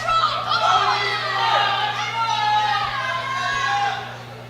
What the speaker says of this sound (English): the crowd goes absolutely crazy for her